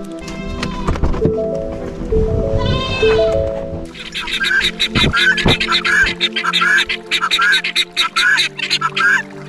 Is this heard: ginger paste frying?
no